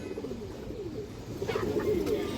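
Old pigeons cooing softly in a loft, a low murmuring coo that grows a little louder toward the end, with no talking over it.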